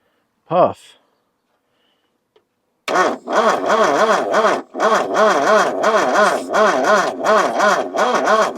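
Old Ford Courier engine that sat for 30 years, running rough with a fast, pulsing mechanical whir as the throttle is worked, loud and close after a brief silence and a short voice at the start.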